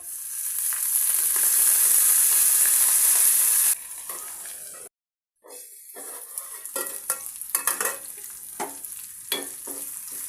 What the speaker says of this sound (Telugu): నూనె గరం అయినాక ఉల్లిగడ్డలు వేసుకోవాలి